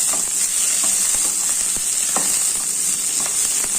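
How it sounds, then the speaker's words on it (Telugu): Green chilies frying in hot oil with peanuts and coriander seeds, a loud continuous sizzle with a bright hiss and occasional stirring scrapes close by. "పల్లీలు ధనియాలు వేగిన తర్వాత పచ్చిమిరపకాయలు వేస్తానండి"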